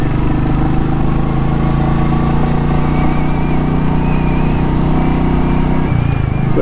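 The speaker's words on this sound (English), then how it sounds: "Nice bobbing sound to the engine." A Royal Enfield motorcycle engine idles up close with a steady, loping thump that holds even for several seconds, then shifts slightly near the end.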